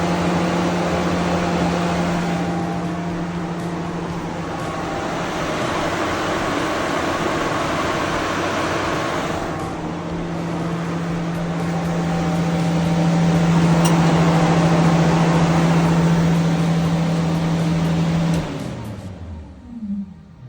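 Electric cooling fans whirring steadily in a Ford Ranger Class 7 race truck, a continuous droning hum that shifts pitch slightly partway through before winding down and stopping near the end.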